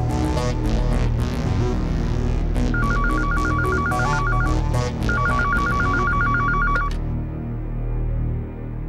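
A telephone rings in two bursts of rapid trilling, standing out over a dense, loud background of music or noise, in a Hindi TV drama scene.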